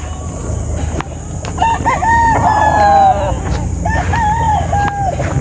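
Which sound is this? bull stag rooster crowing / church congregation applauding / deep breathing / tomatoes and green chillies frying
bull stag rooster crowing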